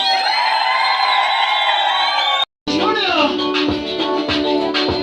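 Wedding guests ululate loudly, shrill wavering trills ringing together with cheering from a crowd, then after a short break the trilling continues amid voices and music at a celebration.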